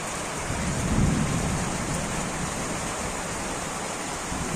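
Heavy rain pouring during a thunderstorm with lightning, a dense, continuous roar of rainfall with a low rumble near the start and no voices.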